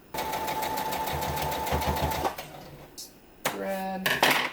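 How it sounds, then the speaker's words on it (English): A sewing machine runs steadily for about two seconds, sewing shut a seam on a Cinnamoroll plush, with a close, even mechanical whir. After a pause, a person talks over some handling noise. "that's where I'm gonna sew it shut"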